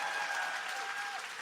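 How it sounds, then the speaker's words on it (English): A short burst of audience applause at a live show, dense and even clapping from a crowd, heard close and fairly loud. "he deserves a big round of applause for this game"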